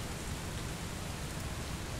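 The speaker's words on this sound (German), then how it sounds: "Und es regnet." Rain in the video game Bus Simulator 18, a dense steady hiss of falling rain that is constant and fairly loud, with no voices over it.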